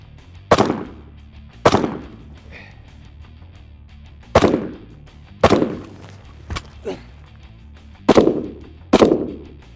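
Marine carbine shots ring out during a qualification course of fire on an outdoor range, loud sharp cracks with echoing tails, fired in pairs with pauses between them.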